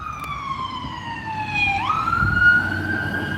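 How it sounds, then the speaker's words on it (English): Ambulance siren passing on an outdoor road, a loud wailing tone that sweeps slowly down, then drops sharply in pitch as it goes by, with a vehicle rumble underneath and no talk. "Oh, ambulance."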